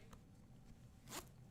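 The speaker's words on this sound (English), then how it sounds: "zip up my hoodie" A hoodie zipper is pulled up in one quick, close rasp after a faint earlier tick, over a quiet room tone.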